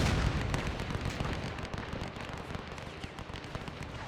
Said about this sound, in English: Just a massive barrage.